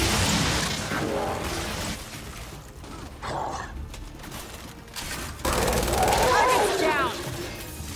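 Gunfire in the Gears 5 video game on inconceivable mode, with bursts of rapid shots and booms coming and going in a busy, uneven mix over several seconds.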